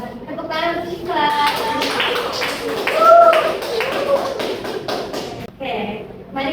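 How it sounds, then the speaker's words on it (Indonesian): A classroom of high school students claps for a classmate, a dense burst of hand claps spread across several seconds with voices mixed in. "Tepuk tangan untuk Syifa."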